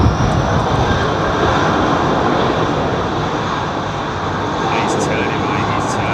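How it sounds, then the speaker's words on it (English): A jet airliner departing London Heathrow Airport gives a loud, steady, broadband engine roar that holds close and unbroken for the full six seconds, with no lull. "Ben Thompson likes watching a fly past."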